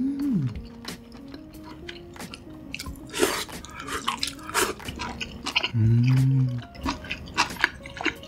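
Close-up chewing of chewy beef tripe with buckwheat noodles, with wet, sticky mouth sounds and soft slurps in an irregular rhythm, loud and intimate, broken by a brief hum and a few faint vocal murmurs.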